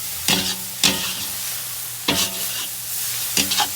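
Indonesian fried noodles being stirred in a hot pan, a few sharp scraping strokes of the utensil spaced irregularly over a steady low sizzle.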